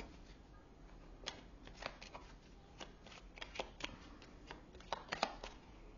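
Lenormand oracle cards being shuffled by hand during a tarot-style reading, giving soft, irregular riffling flicks and taps over a quiet room background, fairly faint with no voices.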